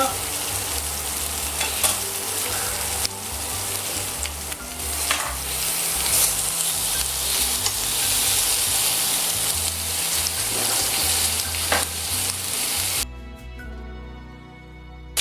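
Pineapple sautéed in a pan alongside quail sizzles loudly and steadily for about thirteen seconds, with occasional stirring scrapes, before the frying noise abruptly drops away.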